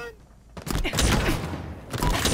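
Rapid bursts of gunfire from the Halo Infinite video game in a close, dense exchange, mixed with player voices talking over the shots.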